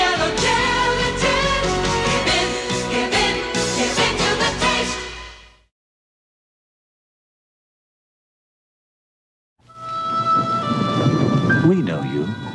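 Thunder and rain in a 1980s wine commercial for Almaden Chenin Blanc: a loud, sustained wash of storm sound and rumble that drops to complete silence, then a rolling swell returns with tonal music layered in.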